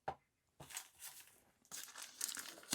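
A small plastic bag being handled before it is weighed, giving close, crisp crinkling and rustling in uneven bursts with brief quiet gaps, and no voice.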